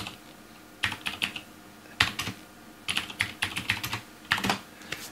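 Quick bursts of typing on a computer keyboard, clustered key clicks with short pauses between words, close and clear with no speech.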